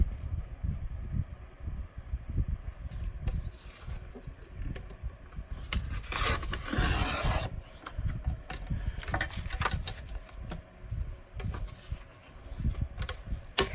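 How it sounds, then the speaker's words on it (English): Pages are torn straight down out of an altered book at close range, with a rough ripping burst in the middle amid soft rubbing and handling noises. "We'll just tear straight down."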